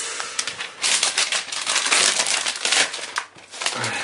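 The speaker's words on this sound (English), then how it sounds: "If I just grab the iPad quickly, I'll take the cellophane." Cellophane wrapping being pulled off a new iPad 4, a loud, continuous crackling and crinkling that swells and dips for about four seconds, close and with no voices.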